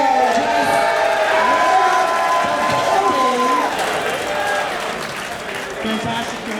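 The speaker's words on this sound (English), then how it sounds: "Now tell me about your insane crowd back there." A packed crowd roars and cheers at an MMA event, a loud, sustained din of many voices, with someone speaking over it close by and the noise easing slightly toward the end.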